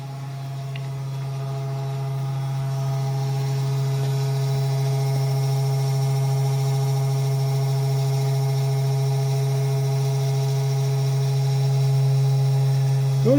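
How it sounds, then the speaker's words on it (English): The weak 12-volt motor of a mini CNC machine runs with a steady, low electric hum and faint buzzing overtones, unbroken and close for the whole stretch. "this motor, this 12-volt motor, is fairly weak"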